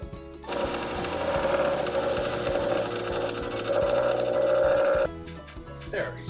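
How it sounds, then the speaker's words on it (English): A bench grinder cuts light grooves into the middle of a wooden tai chi stick, a loud steady whine with a strong grinding tone that holds for about five seconds, then stops abruptly. "I'm going to use the bench grinder, and I'm going to actually carve some slight light grooves right in the middle here"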